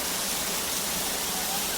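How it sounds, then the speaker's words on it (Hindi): Waterfall and rushing river water in Chilfi valley, a steady broad roar of falling and flowing water filling the scene without a break. "चारों ओर कलकल करती नदियाँ और झरने का आवाज़ मंत्रमुग्ध कर देता है"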